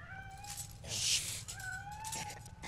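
A cat meowing inside the game You are GROUNDED, set in a basement: two drawn-out, wavering meows separated by a brief rustly burst, moderately faint and close.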